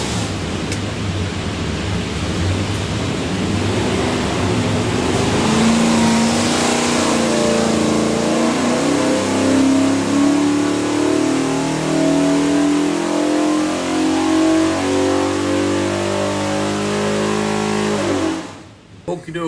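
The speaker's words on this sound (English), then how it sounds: "Going to make a run, see what she does." A 427 Ford V8 with Terminator X injection and a Moroso front sump, tested on a dyno, revs hard and climbs steadily in pitch through a long loud pull, then cuts off abruptly near the end.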